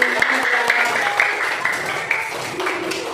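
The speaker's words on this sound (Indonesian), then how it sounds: "kasih tepuk tangan buat kelompok 1" A fifth-grade class claps for group 1 during a science lesson, a brief round of mixed hand claps with some sharper near claps and chatter over it.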